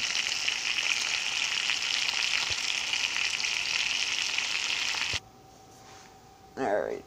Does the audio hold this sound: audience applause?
no